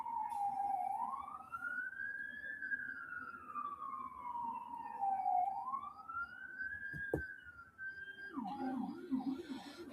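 Freightliner fire engine siren in Surrey, Canada, wailing in long rising and falling sweeps that switch to a rapid yelp near the end, loud and fairly close with no talk over it.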